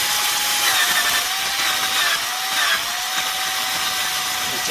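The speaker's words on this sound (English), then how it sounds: "I'm just going to go very gently on it with high-speed drill." A high-speed drill grinds gently against a metal snap on a pair of pants, a steady, close, high-pitched whine with a slight waver, running continuously without talk.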